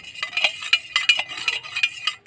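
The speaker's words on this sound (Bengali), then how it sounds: "এইবারে লবণ আর তেল ভালো করে মিশিয়ে নেব" Spoon clinking and scraping against a bowl while salt and oil are mixed into flour for thin rotis, a quick run of close metallic taps and scrapes in steady rhythm.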